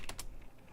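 Two quick, close keystrokes on a computer keyboard, crisp clicks that fade into faint room noise.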